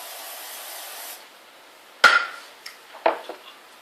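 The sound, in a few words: cooking oil spray being sprayed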